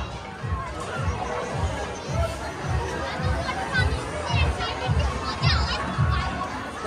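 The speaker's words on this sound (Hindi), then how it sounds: "देख लो गाइस खाने के लिए इतनी भीड़ है यहाँ पे" Dense crowd chatter and overlapping voices fill a busy waterpark food area in Jaipur, a steady hubbub of many people talking at once with occasional children's shouts rising above it.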